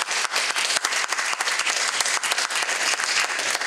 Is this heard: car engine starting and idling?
no